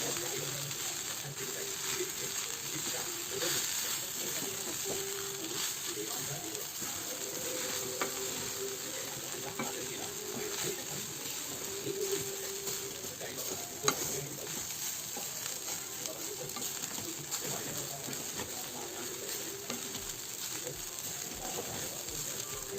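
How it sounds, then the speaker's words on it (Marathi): Washed poha flakes being stirred with green peas in a frying pan, a steady soft sizzle with intermittent scraping and clinking of the spatula throughout, with faint background noises. "पोहे मिक्स करून घ्यायचे"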